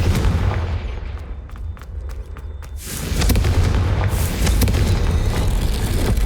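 A Confringo fire spell from the Hogwarts Legacy game bursts with a deep booming blast over a rumbling game soundscape, the low roar swelling and staying heavy for several seconds with no talk.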